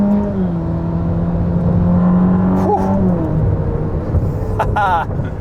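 A Ferrari SF90 hybrid supercar engine revs and rises in pitch, loud and close, with a steady droning hum underneath and a quick higher rev burst near the end.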